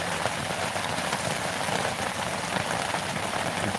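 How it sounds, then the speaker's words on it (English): Heavy rain pours down onto a tent, a dense, steady hiss of drops drumming on the fabric close by, with no talk. "we're stuck in the tent right now, and it is pouring down raining"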